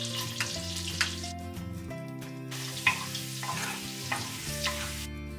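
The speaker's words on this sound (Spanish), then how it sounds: "Y aquí voy a saltear un par de ajos grandes picados finamente." A couple of large, finely minced garlic cloves sautéing in olive oil for a potato cream soup, a steady close sizzle with occasional stirring clicks over background music.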